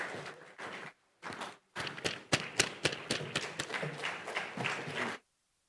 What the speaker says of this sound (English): Please, a round of applause as we'll invite him to the podium for his remarks